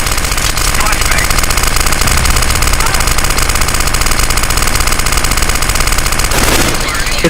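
Decoy grenades and flashbangs in Counter-Strike: Global Offensive make a dense, continuous crackle of rapid gunfire-like pops, loud and unbroken, with a sharp burst near the end and voices talking over it.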